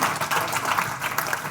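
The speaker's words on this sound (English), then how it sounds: "a round of applause for our fantastic panel" Audience at a UK-ASEAN business forum applauding a panel, a dense, even wash of clapping from a sizeable crowd, close and sustained without a break.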